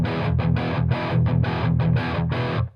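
Thick, full distorted electric guitar runs through a Heavy Menace distortion pedal with its weight control fully open, chugging low palm-muted chords in a quick rhythmic pattern, loud and close before cutting off.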